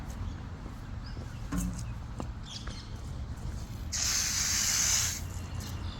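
Running water from a public park washing tap in Jerusalem, a steady hissing gush that swells for about a second near the end over quiet outdoor ambience with faint birds.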